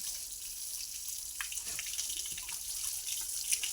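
Water gushes steadily from a hose pipe while bulls are washed after cart-pulling practice, a soft continuous splashing flow with a few drips and splashes.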